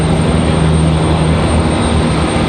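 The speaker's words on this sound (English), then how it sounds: "So we got this A321 headed back to Charlotte." An Airbus A321 jet departs Raleigh-Durham airport for Charlotte with a loud, continuous engine roar, a steady broad rumble with low tonal hum throughout and no voices.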